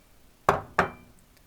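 Two sharp cracking taps of an egg being cracked, about a third of a second apart, close and crisp, in an otherwise quiet room.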